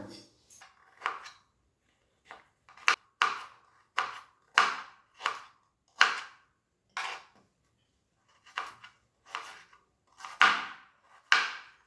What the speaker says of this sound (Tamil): இப்போ நம்ம சின்ன சின்னதாக கட் பண்ணி எடுத்துக்கலாம்